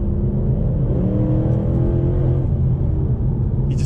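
A 2012 Mercedes-Benz C63 AMG W204 engine is held in a steady, loud rumbling drone that slowly climbs in pitch as the revs rise. It continues without a break and no one speaks over it.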